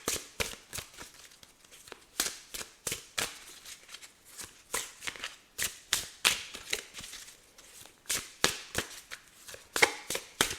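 Oracle cards being shuffled and drawn by hand, with a steady run of crisp, close card riffles and flicks repeating in quick bursts, fairly quiet with no talking.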